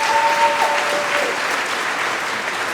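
Conference audience at a Python lightning talk session applauds the next speaker, a dense, steady wash of many hands clapping throughout, with no talking over it.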